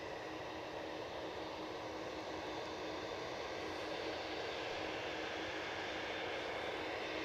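A Boeing Dreamliner at Edinburgh Airport gives off a faint, steady, broadband jet-engine roar that holds evenly throughout, with no voices.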